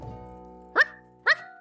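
A human voice imitates a dog, giving two short, sharp barks about half a second apart, close and clear, after a low steady hum.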